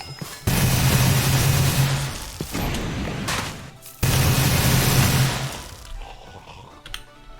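A video game minigun fires in two long, loud roaring bursts of rapid gunfire, each cutting off abruptly.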